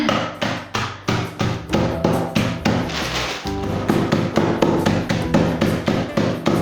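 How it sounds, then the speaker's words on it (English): Rolling pin pounding a sealed bag of chocolate flake bars, about fourteen rapid, steady thuds close up, roughly two per second, with crunchy, rattling impacts and no talking. "I'm hitting it with a rolling pin."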